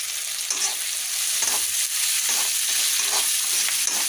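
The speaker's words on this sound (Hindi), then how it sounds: "तो इसे अब फ्राई कर लेती हूँ।" A large, finely chopped onion fries in a pan for a Bihari-style stuffed bitter gourd gravy, giving a steady close sizzle broken by soft, rhythmic stirring scrapes, with no talking.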